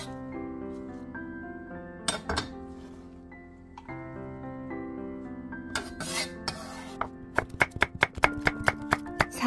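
A knife chops lettuce coarsely on a board with a quick run of sharp taps toward the end. Sustained musical tones play underneath, with a few scattered clinks before the chopping picks up.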